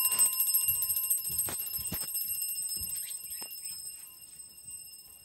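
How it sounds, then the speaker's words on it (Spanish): Home fire alarm ringing through the house, a thin steady high-pitched tone heard from another room, with a few footsteps and light handling noises in the foreground, fading slightly over time. "En todas partes de la casa se escucha esta alarma."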